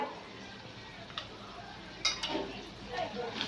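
A spatula scrapes and taps through ginger garlic paste in a cooking pan, with sparse soft clicks and scrapes over a quiet kitchen background and no one speaking.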